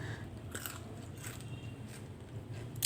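Crisp bites and crunching into a peanut peyek, a rice-flour cracker, with several sharp cracking bites close to the microphone and no talking.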